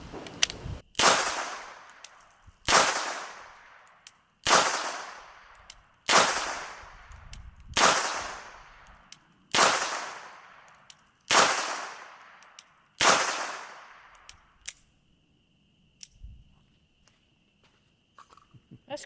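A Smith & Wesson Model 317 .22 LR revolver fires eight sharp, loud shots at a slow, even pace, each followed by a short decaying ring, then a few faint clicks and handling noises.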